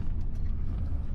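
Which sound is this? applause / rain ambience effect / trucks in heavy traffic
trucks in heavy traffic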